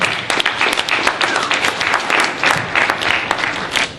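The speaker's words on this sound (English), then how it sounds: "So, clap it up for these men." An audience at a workshop claps enthusiastically, a dense patter of many hands with uneven surges, close and lively throughout.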